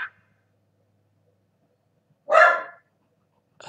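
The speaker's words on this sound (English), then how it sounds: "Guess who's barking?" A single loud dog bark rings out close by after a stretch of near silence, with a second bark starting just as the sound cuts off, heard during a Pokemon Showdown battle.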